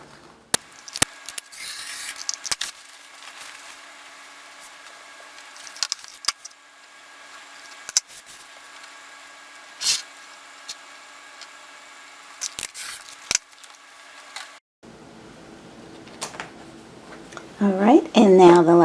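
Scissors snip through denim fabric around a pocket in scattered close cuts with quiet rustling between, and a voice talks near the end.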